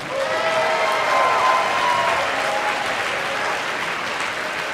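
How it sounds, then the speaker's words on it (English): Loud, sustained applause from a large audience fills an arena at a 2018 FIRST Robotics Competition district event opening ceremony, with a steady crowd roar and faint tonal sounds carrying through. "Let's give everybody here a big round of applause"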